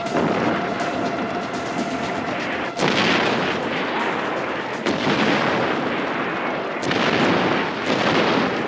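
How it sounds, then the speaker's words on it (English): Artillery fire in the video game Far Cry 4, heavy booming blasts landing in a rhythmic series about every two seconds over a dense rumbling wash, loud and close. "Ajay, you've got artillery incoming. Find cover. Get to cover! That's artillery!"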